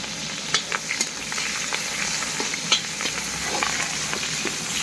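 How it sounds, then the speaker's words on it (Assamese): Sliced onion and green chili frying in hot oil for a vegetable dish, a steady close sizzle with occasional sharp crackles and stirring scrapes, no talking. "এই পিয়াজ আৰু জলকীয়াটো আগতে ভাজি কৰি লওঁ"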